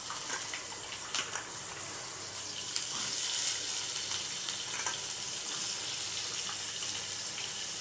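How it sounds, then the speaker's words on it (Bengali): Cut, washed potatoes fry with panch phoron spices in hot oil, giving a steady, bright crackling hiss that swells slightly midway and continues alone without talk. "কেটে ধুয়ে রাখা আলুগুলো একটু আমি ভেজে নিচ্ছি"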